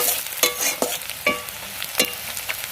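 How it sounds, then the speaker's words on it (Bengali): Onions frying in a generous amount of oil for crisp fried onion, sizzling steadily while a spatula scrapes and stirs in sharp repeated strokes, close and fairly loud with no talking. "পেঁয়াজের বেরেস্তা মানে সেই যেরকম তেলে পুরো ছাকা তেলে ভাজা হয় ওইভাবেই তেলটা দেওয়া হয়ে গেছে"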